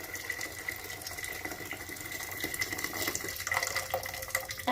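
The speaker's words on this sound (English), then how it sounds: "I'm gonna go ahead and add a liter of hot boiling water" Hot boiling water pours from a container into a pot already holding salt for cooking pasta, a steady close gushing splash that grows slightly louder toward the end.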